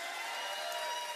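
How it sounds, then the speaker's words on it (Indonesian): Concert audience applause at an unplugged show, a dense steady wash of many hands clapping at a moderate distance, with no voices over it. "Kita berikan tepukan gemuruh pada Mar."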